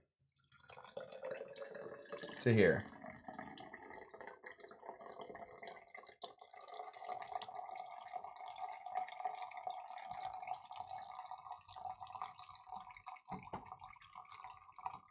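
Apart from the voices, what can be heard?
shaken cocktail being poured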